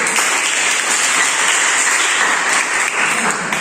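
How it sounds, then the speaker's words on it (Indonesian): Group 1 receives a round of applause at a teacher performance exam, with steady, dense clapping from a crowd of participants that fills the room throughout. "Aplaus dulu untuk kelompok 1."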